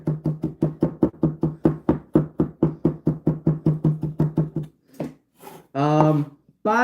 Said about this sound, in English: the safe way I'm chopping this is completely safe because my hand is away from the knife blade